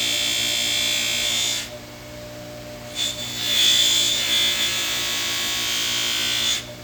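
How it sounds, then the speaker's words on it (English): Buffing wheel polishing stainless steel trim from a 59 Buick or Impala, a steady high motor whine and hiss that drops briefly twice as the metal is lifted off, then resumes, close and loud. "I've been buffing all the stainless steel on the 59 Buick"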